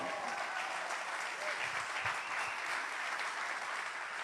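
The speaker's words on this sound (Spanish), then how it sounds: "Alguien dale un aplauso a Jesús." A church congregation applauds steadily during a Spanish-language sermon, the dense clapping loud and continuous throughout with a few faint voices mixed in.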